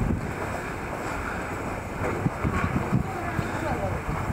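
Wind buffets the microphone over steady sea surf at the Osezaki dive site in West Izu, a continuous loud rush of waves and gusts with brief louder bursts in the second half.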